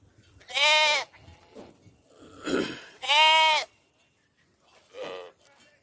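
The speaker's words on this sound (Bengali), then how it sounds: "এই যে দেখেন বন্ধুরা ছাগল ছাগলের বাচ্চা প্রচুর ছাগল" Goats at a goat farm in Saudi Arabia bleat loudly nearby, two long strong calls and a shorter fainter one, with a low murmur of voices between them.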